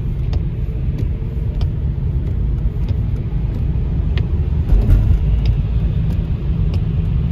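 Snow-clearing vehicles driving along a snowy Moscow street in mid-December, a loud continuous low engine rumble with no talk.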